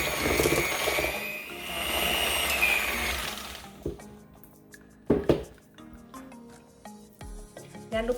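An electric mixer whirs loudly through cake batter for a strawberry bundt cake as the second portion of sugar is beaten into the butter mixture, then cuts out, leaving scattered clinks and knocks of bowl and utensils.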